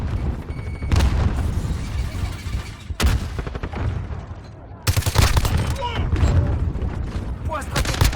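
Heavy booms and bursts of gunfire from a Call of Duty Modern Warfare multiplayer match, with loud, dense explosions around the 1, 3 and 5 second marks amid continuous combat noise.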